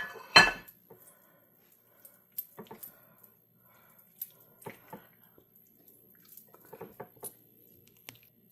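Jumbo shrimp cut into thirds are dropped into a bowl of salad dressing, giving a few wet squishes and light clinks against the bowl, with faint scattered kitchen taps in an otherwise quiet room.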